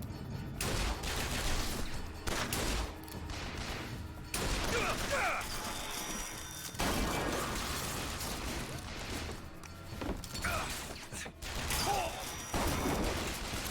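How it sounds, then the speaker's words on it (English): Pistol shots in a first-person shooter game, scattered sharp reports mixed into a busy, continuous layer of combat noise, mechanical clatter and effects, with no clear gaps of quiet. "Now I'm using a pistol."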